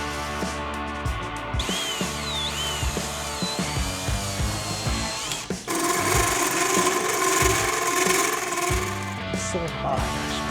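A power drill bores holes for a truck bracket on a Toyota Tacoma, with whining motor runs, stops and restarts, then a sustained louder drilling stretch in a workshop with some clattering.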